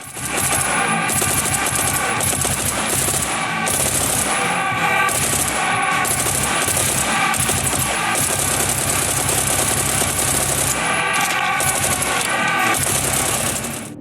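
The M29 machine gun fires in the video game Serious Sam 4 as loud, dense, rapid bursts of automatic gunfire, nearly nonstop with a few short breaks.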